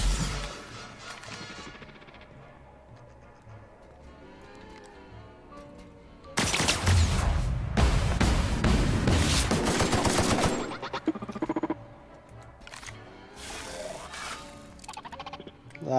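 Gunfire in a sci-fi shooter game against robots: a loud, sustained burst of rapid shots dominates the middle stretch, framed by quieter game sounds and a few scattered shots afterwards.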